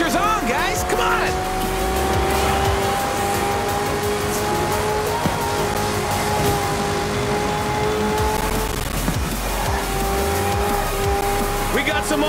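Race cars and racing trucks roar through crowded streets in Forza Horizon 4, a dense, continuous blend of loud engines and tire squeal with cheering crowds, someone talking over the din.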